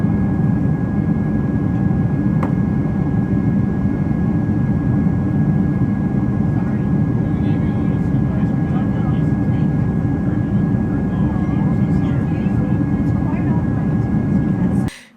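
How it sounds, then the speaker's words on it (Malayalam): UAE Air Force jets flying escort for a presidential plane give off a loud, steady jet-engine roar that holds constant and fills the whole stretch before cutting off abruptly. "US പ്രസിഡന്റിന്റെ പ്രത്യേക വിമാനത്തിനെ അകമ്പടി സേവിച്ചും വരവേറ്റും UAE എയർഫോഴ്സ് വിമാനങ്ങൾ ആകാശത്ത് ഡൊണാൾഡ് ട്രംപിനെ സ്വീകരിച്ചു."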